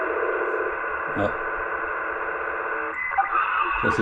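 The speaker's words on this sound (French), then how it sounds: "Ça c'est le bruit de balise." A beacon tone comes over a CB radio during morning propagation in south-west France, a steady buzzing hum with faint static and brief bursts near the end.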